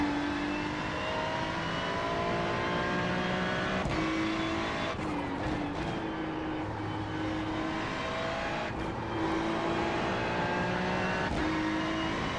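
BMW and Ferrari race cars run hard around the Mugello circuit in the iRacing sim. A continuous engine drone rises and falls through gear changes, with brief shifts and passing surges and no talk.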